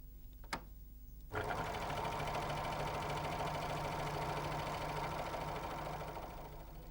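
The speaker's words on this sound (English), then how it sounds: "Lower the presser foot and continue sewing." Janome 6234XL overlocker stitching through layered fabric, a steady mechanical whir that starts abruptly after a brief click and runs continuously, close and even.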